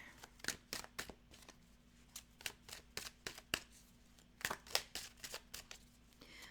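Tarot cards being shuffled by hand during a reading, a quiet run of crisp, irregular riffling flicks and slaps, close and soft, with no talk over them.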